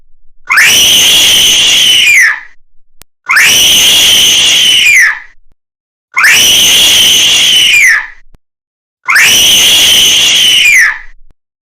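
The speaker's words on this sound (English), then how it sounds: "stop screaming" Animated child screaming in a backyard tantrum: four long, loud, piercing shrieks about two seconds each, separated by short silences, with no other voices.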